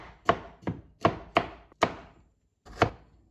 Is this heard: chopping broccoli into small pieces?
yes